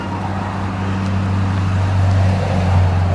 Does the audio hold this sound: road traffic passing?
yes